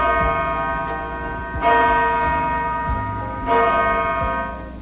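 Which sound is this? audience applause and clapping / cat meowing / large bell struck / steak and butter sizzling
large bell struck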